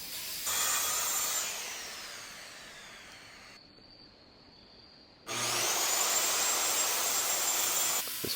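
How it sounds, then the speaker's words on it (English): A circular saw plunge-cuts and then rips straight through a soft pine top about two inches thick. The blade whines loudly, drops off briefly in the middle, then spins back up for a second long cut, with no talking. "This method of plunging the saw and then going straight really helps keep the cut square."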